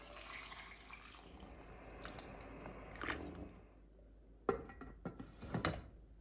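Hot water is poured into a pot of cooking beef karahi and gives a soft, faint splash and sizzle, followed by a few clinks and squishy stirring sounds near the end.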